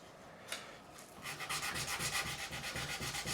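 Sandpaper of 400 grit rubbing over a lacquered maple guitar fingerboard, a brief faint scrape followed by a run of fast, even back-and-forth strokes, close up and with no talking.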